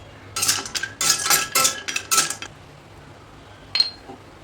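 Turmeric root and dry ginger roast in oil in a pan while a metal spoon scrapes and clinks against it in several quick bursts, then pauses and gives one last clink, near and with no voices.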